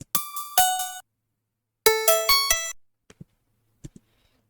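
A bright synth lead from a future bass track built in Ableton plays short plucky stabs in two bursts, with clear gaps between phrases and quiet taps trailing after.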